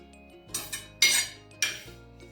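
Fried onion and whole spices for a homemade non-veg khada masala being scraped off a pan into a mixer jar: three or four distinct metallic scrapes and clanks of a spoon against metal, close and clear, with no talking.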